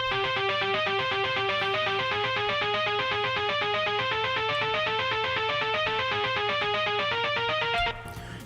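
A bright, punchy synth lead from a Midnight Motorist remix plays a fast, steady stepping pattern in a high register over a low sustained drone, continuous and loud until it cuts off near the end.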